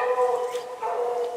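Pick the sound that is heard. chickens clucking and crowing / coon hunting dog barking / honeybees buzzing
coon hunting dog barking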